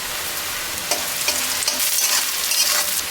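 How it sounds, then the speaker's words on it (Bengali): Onion and five-spice seeds fry in oil in a pan, giving a busy sizzle broken by scraping stirring strokes that grow louder and more frequent toward the end, with no one talking. "সামান্য পাঁচফোড়ন দিয়ে দিলাম।"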